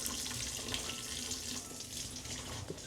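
Very cold tap water runs steadily into a sink in Pakistan while dishes are washed, a close, continuous splashing hiss with no talking.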